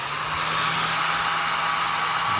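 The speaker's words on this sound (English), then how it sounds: "now I'm gonna coax it a little bit with the hairdryer" A hair dryer on low heat runs steadily close by, warming a decal, a constant whooshing hiss with a low motor hum and no change in pitch.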